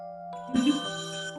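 A telephone rings with an incoming call during a Korean church news broadcast: a steady, fairly faint electronic ringtone of sustained tones, with a brief louder swell midway.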